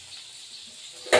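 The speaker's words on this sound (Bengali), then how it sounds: "পুজো টুজো করে টোরে এই ভোলা মাছটা এখন ভাজছি।" Bhola fish frying in a pan of oil: a faint, steady sizzle hisses quietly, then a sudden louder crackling burst erupts near the end.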